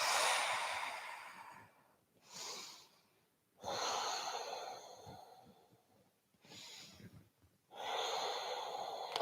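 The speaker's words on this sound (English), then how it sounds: "Deep breaths." Slow deep breathing during an evening yoga class: long audible breaths, each several seconds of breathy rush separated by short quiet pauses, close and steady.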